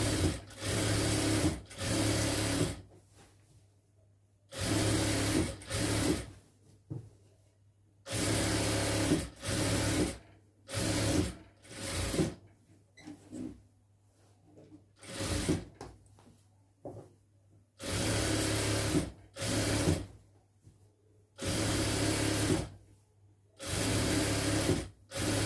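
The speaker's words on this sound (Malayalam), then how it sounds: "നമുക്ക് ഇങ്ങേ വശം കൂടെ അരികൊന്ന് തയ്ച്ചു കൊടുക്കാം." A sewing machine runs in repeated bursts of a few seconds each as it stitches the edge of a lined churidar. It whirs loudly and steadily, with short quiet pauses between runs and no talking.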